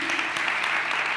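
Brief burst of congregational applause in a church service, a dense wash of clapping heard close and steady for about a second.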